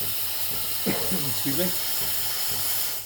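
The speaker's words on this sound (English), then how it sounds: "my steam is ready" A Sage espresso machine's steam wand hisses steadily throughout, a broad airy rush with a brief voice speaking over it midway.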